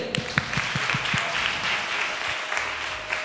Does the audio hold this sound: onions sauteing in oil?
no